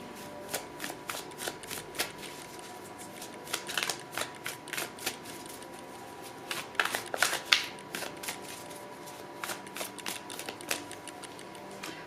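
Tarot cards shuffled by hand over about twelve seconds, a steady run of crisp riffling and flicking bursts, close and fairly quiet, with no talking.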